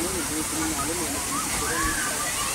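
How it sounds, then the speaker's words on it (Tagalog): Cambugahay Falls in Lazi, Siquijor, gives a steady, broad rushing roar of falling water that runs unbroken beneath a person talking. "ako tayo sa Cambugahay Falls dito sa Lasig"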